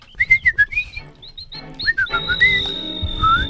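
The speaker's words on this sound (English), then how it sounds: "the fucking coolest whistle" A skilled whistler runs through quick warbling trills and sliding notes, close and clear, with one long held high tone near the end over faint background murmur.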